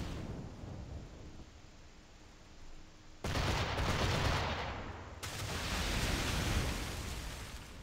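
Booming ship cannon fire in Assassin's Creed 4 during a naval battle, two heavy blasts that roll into long rumbling noise, loud and close, with no talking.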